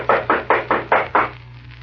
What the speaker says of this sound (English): I'm going to knock on the door.